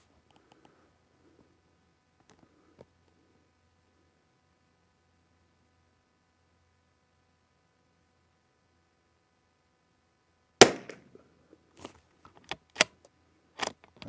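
Several sharp .22LR Eley rifle shots crack in an irregular series after a long near-silent stretch, each a brief loud report with a short tail.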